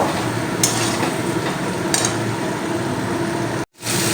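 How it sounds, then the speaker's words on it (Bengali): Fried cauliflower and potato stir-fried in spiced masala for a fish curry, giving a steady close sizzle with scraping stirs and light clinks, cutting off abruptly near the end before resuming. "এবারে দিয়ে দেবো আমি ভেজে রাখা ফুলকপি আর আলু দিয়ে আমি তিন থেকে চার মিনিট কষিয়ে নেব"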